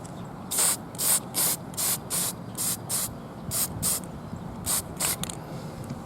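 Short bursts of aerosol spray paint hissing close by onto plastic miniatures, about a dozen quick sprays in an uneven rhythm over a low background rumble.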